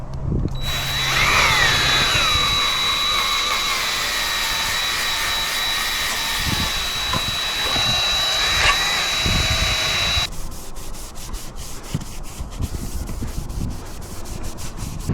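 A power drill fitted with a soft polishing pad buffs a surface, with a steady high whine and rubbing friction for about ten seconds before the drill stops and quieter handling noises follow.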